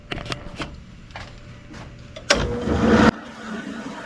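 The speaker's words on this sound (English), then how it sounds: "Now we'll go hit the sander." Sander working an apple wood pipe, a few short bursts of contact followed by one louder, sustained grinding pass of about a second before it stops abruptly.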